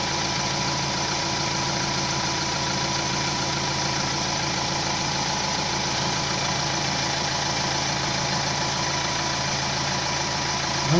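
Close and steady, a cold car engine idles with a continuous low hum, a slight rhythmic shake and knocking running through it, unchanged and uninterrupted by any voice.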